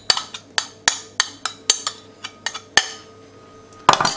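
A spoon stirs hot mango with soaked gelatine sheets in a bowl, giving a rapid irregular series of sharp clinks against the bowl, close and alone.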